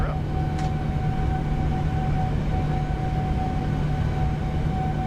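A Boeing 787-9 jet takes off in Microsoft Flight Simulator 2024, giving a steady, loud engine roar with a constant low drone and a thin whine held through the whole stretch, while a voice speaks faintly over it.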